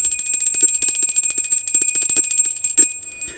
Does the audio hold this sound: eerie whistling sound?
no